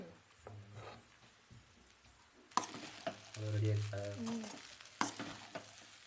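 Basmati rice frying on a high flame for street-food cooking, with a steady hiss broken by sharp scraping stir strokes and clanks, fairly quiet, while faint voices and other tones sit in the background.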